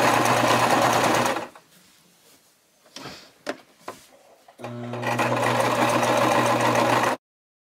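A sewing machine stitching a poodle skirt runs in a loud steady whir, stops for a few seconds of handling clicks and taps, then starts up and runs steadily again before cutting off.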